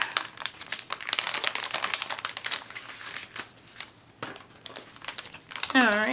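Plastic wrapping on a mailed sticker subscription package crinkles and tears in a busy, near burst of rustling as it is opened, with a short quieter pause before more handling.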